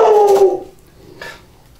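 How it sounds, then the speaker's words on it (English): A dog gives a short, high, wavering whimper that fades quickly, then a fainter second whine follows in an otherwise quiet room. "The dog obviously doesn't like hot things."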